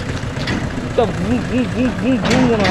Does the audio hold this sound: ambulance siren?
no